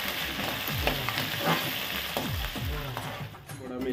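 Green chillies, ginger, garlic, curry leaves and coriander sizzle steadily in hot oil, a dense continuous crackle with scraping stirring strokes from a spatula, close and fairly loud for egg rice.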